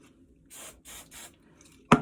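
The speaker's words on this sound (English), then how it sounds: "you can take some hairspray and just scrunch it and spray" Three short hisses of hairspray from a can are applied to scrunched hair at the back of the head, each about a quarter second long and evenly spaced, followed by a brief sharp clatter.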